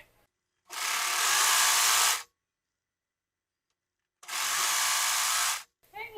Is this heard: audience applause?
no